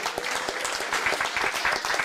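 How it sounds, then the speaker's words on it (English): An audience at a high school sports awards ceremony claps steadily, with individual sharp hand claps standing out from the crowd's continuous applause. "Clap it up for my team also."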